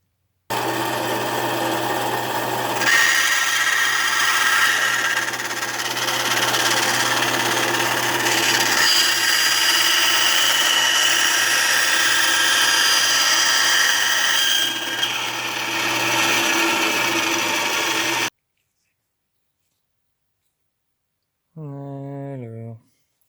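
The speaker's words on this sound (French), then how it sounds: "je vais passer à la scie à ruban et on va couper ça." A band saw whirs steadily through a long cut, a continuous buzzing drone that suddenly stops. After a short silence, a voice briefly speaks.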